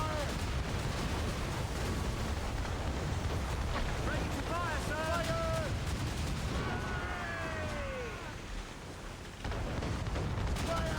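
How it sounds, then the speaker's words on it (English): Dense, continuous rumbling ship cannon fire and booming mortar blasts in the video game Assassin's Creed fill the scene, with brief shouting voices rising over the barrage. "She's firing mortars, Captain!"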